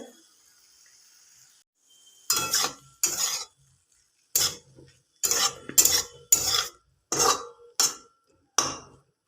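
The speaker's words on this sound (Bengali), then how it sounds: "এরপর আমি তেল দিয়ে এটাকে ভাজছি" Mushrooms frying in a little oil in a wok, heard after a quiet start as roughly eight separate, sharp bursts of spatula stirring and scraping with a light sizzle.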